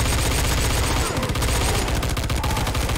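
Rapid bursts of automatic gunfire in Left 4 Dead 2, loud and continuous with dense overlapping shots across the whole stretch.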